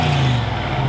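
Old pickup truck engine running, a steady low close rumble held evenly for a brief moment with no talking.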